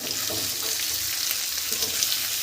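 Potatoes for jeera dum aloo sizzling in a pan while being stirred slowly: a continuous, close frying hiss with soft scraping textures throughout, no voices.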